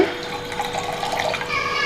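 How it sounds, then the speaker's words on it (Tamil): A tumbler of water poured into milk in a pot while making pal kozhukattai, a short continuous splashing pour close by that swells slightly near the end. "இப்போது பால் சேர்த்துட்டு கூடவே ஒரு டம்ளர் தண்ணி சேர்த்துக்கோங்க."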